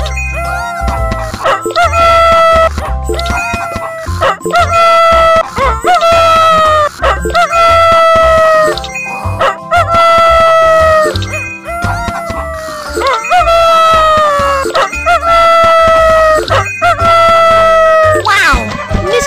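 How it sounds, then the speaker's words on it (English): A rooster crows loudly again and again in long, rising calls, with chickens and a barking dog mixed in throughout. "Let's ask Mr. Rooster to wake Miss Hens up."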